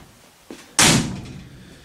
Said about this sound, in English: The door shut really nice.